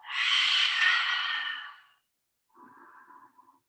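A deep breath taken in yoga child's pose: a long, close, airy inhale followed after a pause by a softer, shorter exhale, in a quiet room.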